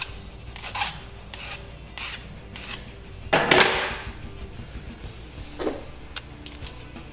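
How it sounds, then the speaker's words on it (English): Short raspy filing strokes deburr the chamfered end of a brake line, coming in a quick rhythmic series of scrapes close by, then a louder rub and a few faint scratches. "you're just trying to deburr it."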